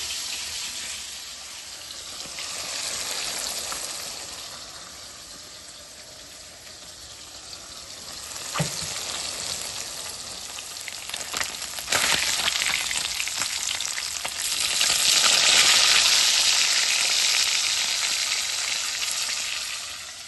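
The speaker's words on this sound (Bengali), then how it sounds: "আমি মাছগুলো আগে ভাজি করে নিব" Local katla fish frying in a pan make a steady close sizzle that swells louder in later bursts, with a few sharp clicks and spatters, no talking.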